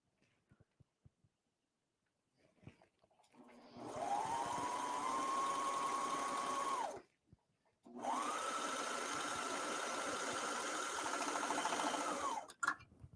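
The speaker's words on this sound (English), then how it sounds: "I'm using a 3-thread wide overlock, and I'm just butting the edge of my seam up to the knife." A 3-thread wide overlock serger stitches a skirt seam against its knife in two sustained runs of a few seconds each, a steady close whirring hum with a short pause between and faint clicks before and after.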